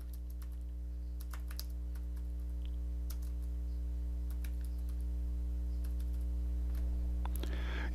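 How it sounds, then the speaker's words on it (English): Keys clatter on a computer keyboard as text is typed into Photoshop, coming as sparse, uneven clicks and short bursts over a steady low electrical hum. "give a click, and type whatever it is we want to type"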